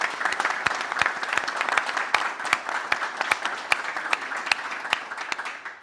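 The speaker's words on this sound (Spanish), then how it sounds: "Les pido un aplauso para ellos" Applause from the audience at a teleconference event, a close, steady patter of clapping with a few sharp individual claps standing out.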